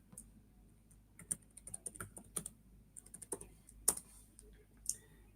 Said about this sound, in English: So I'm just typing in my details.